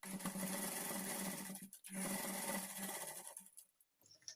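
A sewing machine stitches a blouse back neck design, running in a steady close whir, pausing briefly partway through, resuming, then stopping near the end.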